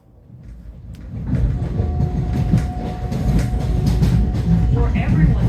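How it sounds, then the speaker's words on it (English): Long Island Rail Road commuter train rolling through confined tunnels beneath the East River, its rumble building from quiet into a loud, echoing roar with rhythmic clatter of wheels on rails and a faint steady tone above. "the sounds changed as noises from our train now bounced off the walls of those confined spaces underneath the East River"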